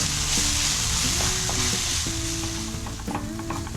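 Onions with ginger garlic paste sautéing in a pan make a loud, steady hiss. A spatula scrapes and taps against the pan now and then.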